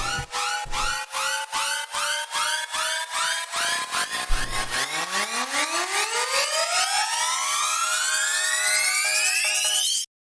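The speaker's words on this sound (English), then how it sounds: "what I like to do with my risers is I like to have some that start at different times" Several overlapping synth risers climb steadily in pitch, layered tones entering at different times and swelling into a dense, bright, sustained wash.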